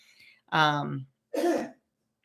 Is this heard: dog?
no